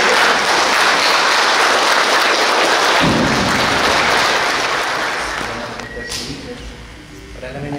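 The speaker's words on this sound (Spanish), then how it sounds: "Le brindamos un fuerte aplauso a Remedios para Dios." A crowd at a quinceañera celebration in Oaxaca claps in steady applause that gradually thins out and fades toward the end.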